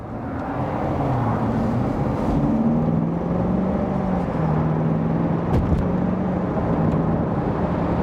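A 2017 Corvette Grand Sport engine hums loudly and steadily, its drone rising and falling slightly as the throttle is worked, with no voices.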